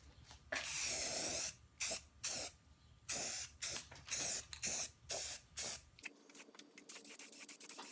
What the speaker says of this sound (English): Now for a coat of primer.